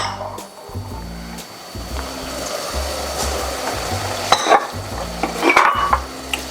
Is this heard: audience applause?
no